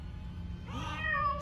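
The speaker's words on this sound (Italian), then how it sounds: "dentro quegli scogli, si nasconde una famiglia di gattini!" Kittens meow among seaside rocks, a few thin, rising cries emerging late over a steady low rumble of wind or surf, fairly close.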